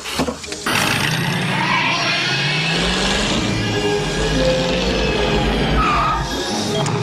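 A car engine starts and revs up as the vehicle pulls away, a loud sustained roar with rising pitch filling the whole stretch, with a screech near the start.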